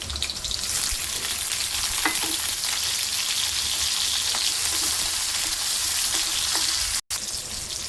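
Garlic and green chillies frying in hot oil in a kadhai for pasta masala make a loud, continuous crackling sizzle up close, with a momentary cut near the end and no voices.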